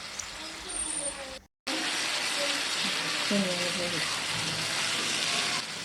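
Fried onions (beresta) going into a pan of hilsa pilau, giving a steady close sizzle with one brief dropout, and a voice talking quietly over it.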